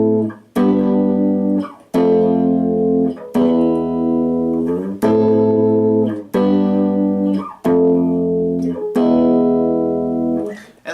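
A descending stepwise chord progression in the Phrygian major mode, ending on a major chord, is played as seven sustained, distorted electronic chords, each struck and held about a second and a half, loud and clear with no talking.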